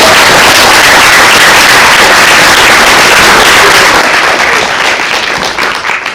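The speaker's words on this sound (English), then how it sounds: "Let's give a round of applause" Loud, dense applause from an audience at a school math bee, sustained and roaring close by before easing off slightly toward the end.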